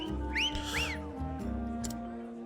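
Melodic whistling from a song in the video game Octopath Traveler, rising and falling whistled phrases over a sustained instrumental backing, clear and upfront with no talking.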